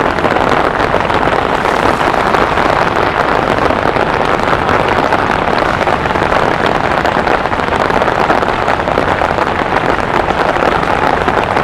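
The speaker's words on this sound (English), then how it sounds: "This is a proper downpour." Heavy rain pours down in a dense, constant hiss during a proper downpour on a London city street on a May bank holiday, loud and unbroken throughout.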